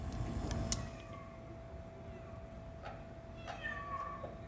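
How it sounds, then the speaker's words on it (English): A cat gives a few faint, thin meows over a steady background hum and hiss, with brief higher cries scattered through the short stretch. "Poor cat."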